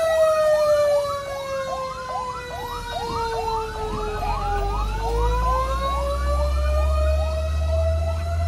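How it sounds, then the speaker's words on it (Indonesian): A fire engine's siren wails as it passes near an Indonesian railway level crossing. The loud, rising-and-falling cycles drop in pitch midway as it goes by, over a deepening engine rumble. "wah ada damkar lor"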